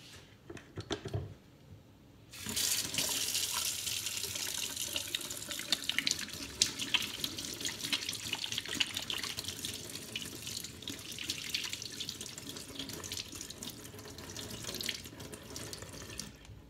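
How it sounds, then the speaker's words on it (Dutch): Water runs steadily from a tap into a sink for most of the clip, a constant close rushing hiss with small splashes as hands move under it. "Ik ga eens even mijn handen wassen."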